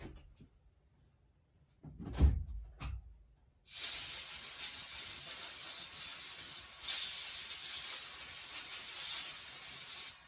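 Compressed air blasts steadily over a starter recoil spring on a workbench during a starter repair, a loud, continuous hiss lasting several seconds after a couple of short handling knocks.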